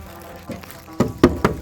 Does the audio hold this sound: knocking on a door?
yes